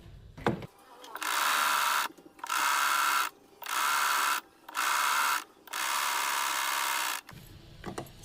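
A sewing machine stitches a folded five-inch blouse strip in five steady whirring bursts with short pauses between, loud and close, after a brief handling rustle at the start.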